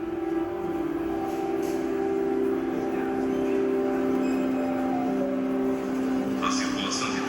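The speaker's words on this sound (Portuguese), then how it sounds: "A plataforma tem sons familiares para qualquer um que já pegou o transporte metropolitano, o famoso metrô." A metro train sits at a subway platform, giving off a steady droning hum with sustained tonal whine, and a short hissing burst near the end.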